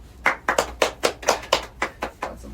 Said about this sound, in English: Got some claps for the Scarecrow there